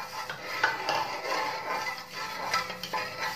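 A spoon stirs a cardamom-sugar syrup mixture in a pot while making sponge rasgulla, giving close, irregular scraping and light metallic clinks against the vessel with no talk.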